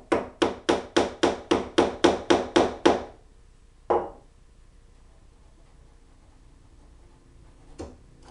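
A mallet strikes a chisel in a quick run of about ten sharp, evenly spaced knocks as wood is pared to cut a drilled mortise, followed by two more isolated taps after a pause.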